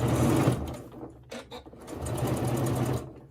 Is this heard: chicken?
no